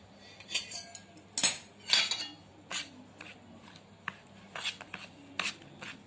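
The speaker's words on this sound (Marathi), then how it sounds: "आता ह्या मसाल्यात आपण हळूहळू तेल टाकायचं आहे" A spoon clinks and scrapes against a bowl while oil is worked into Rambandhu pickle masala for raw mango pickle, giving scattered close metallic taps and rubs between quiet gaps.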